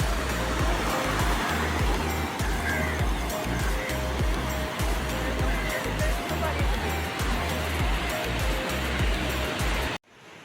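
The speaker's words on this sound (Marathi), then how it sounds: "बघू शकता समुद्र एकदम खवळले" Rough sea at dawn on a deserted beach near Malvan: a loud, constant roar of surf with low, rumbling buffets, cutting off abruptly near the end.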